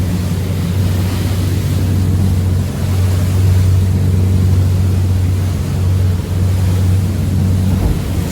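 The boat Freebird motors through rough seas on Lake Michigan, its engine drone low and continuous, with wind and water rushing loudly around it and no talking.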